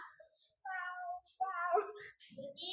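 A voice imitates a cat, giving a few drawn-out, tonal meows in a classroom, clear and close with brief pauses between calls.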